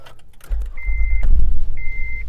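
A 2016 Honda Odyssey minivan is push-button started: its engine catches with a low, steady rumble close by, and two bright electronic chime beeps sound over it.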